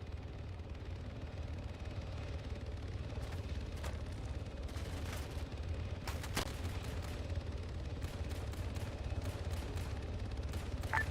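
Distant gunfire in the Arma 3 military video game, scattered sharp shots and bursts popping faintly over a low rumbling background throughout.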